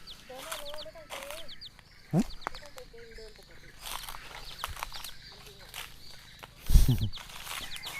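Chickens cluck and crow around a rural Thai home garden, including a black-feathered hen with her chicks, with scattered calls near and far and louder bursts over a busy outdoor background, while someone talks.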